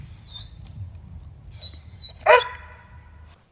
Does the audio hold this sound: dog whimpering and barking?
yes